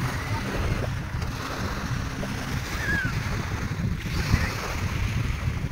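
Sea waves wash steadily at Cortez Beach, a continuous low roar mixed with wind buffeting the microphone, without a clear break in the sound.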